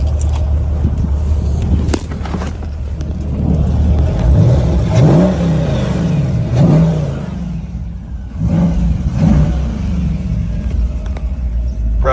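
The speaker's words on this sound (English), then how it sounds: "I'm gonna go ahead and give this thing a rev so you can hear this engine." A muscle car engine revved with the hood open, a loud, close rumble that swells through several throttle blips, rising and falling twice before idling back down.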